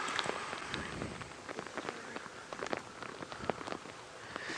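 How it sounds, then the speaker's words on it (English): Steady rain patters on surfaces during an early-morning safari drive among lions, a dense, continuous spatter of drops with sharper individual taps throughout, nearby and fairly loud. "the rain is starting to get a little heavier now"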